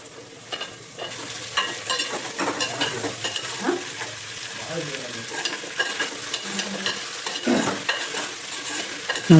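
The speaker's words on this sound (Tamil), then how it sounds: "நறுக்கி வச்ச காயெல்லாம் சேர்த்துக்குவோம்." Chopped vegetables sizzle and hiss in a hot pan while a utensil stirs and scrapes through them in steady, close strokes.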